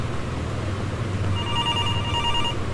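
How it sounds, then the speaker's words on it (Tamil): A telephone rings inside the Infliction horror game, a thin electronic trill starting partway through over a low droning ambience. "உனக்கு ஃபோன் வருது."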